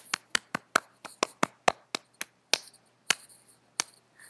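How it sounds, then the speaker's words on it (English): One person claps bare hands in a quiet room, about sixteen sharp, crisp claps at a fairly even pace, some landing slightly harder than others, with no other sound around them. "I'm clapping my hands"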